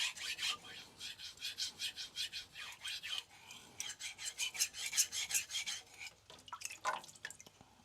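A Magna Cut steel knife is stroked slowly across a super vitrified diamond sharpening stone, giving a rhythmic series of soft, close rasping scrapes, roughly two per second.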